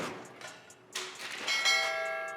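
Several bright bell strikes ring out in quick succession, overlapping and shimmering as they decay, clear and fairly close.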